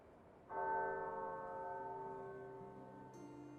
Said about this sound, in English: as the bell rings